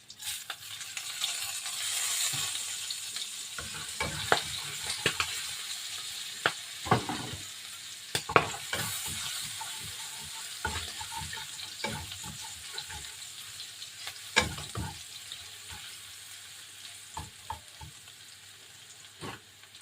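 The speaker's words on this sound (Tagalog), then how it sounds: "Tapos, gigisa na natin yung bawang." Garlic sautéing in oil in a pan crackles and sizzles steadily, broken by repeated sharp scrapes and taps of a utensil stirring, fairly close and with no speech.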